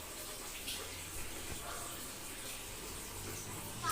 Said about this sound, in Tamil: இப்போ ரொட்டேட் ஆகுது, ட்ரம்மு சுற்றுது